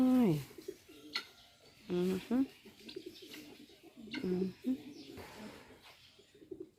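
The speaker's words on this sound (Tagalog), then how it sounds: "Ayan na yung mga kalapati." Pigeons coo at Lake Danao on Camotes Island, several rolling low calls in separate bursts, fairly close, with a person talking between and over them.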